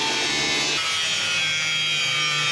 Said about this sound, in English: I'm going to grind off these pieces of metal so my board will sit flat.